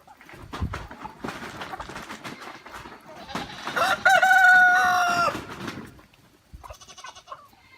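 Backyard chickens cluck and a rooster crows amid a farmyard where goats are also kept, with layered fowl calls throughout and a loud crow in the middle before the noise thins out.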